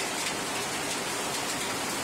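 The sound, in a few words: heavy rain in Guwahati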